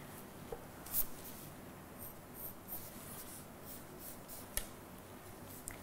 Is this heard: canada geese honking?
no